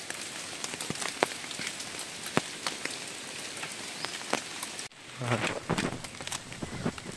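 Rain falls steadily through a forest with mango trees, a dense close patter of drops striking leaves and ground, with sharper individual drips standing out and a brief louder shift near the end.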